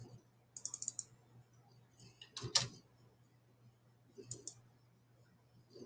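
Bursts of quick clicking keystrokes on a computer keyboard come in short clusters with pauses between them, close but fairly quiet, plus one louder clatter in the middle.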